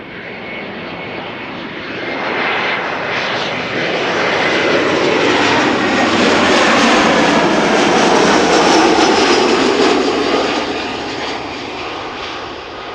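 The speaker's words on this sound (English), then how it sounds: "next up Iberia Express, arriving from Madrid. Flight 3722" An Iberia Express airliner arriving from Madrid roars in at Amsterdam Schiphol, a loud, broad engine rush that swells to a peak and then slowly eases off.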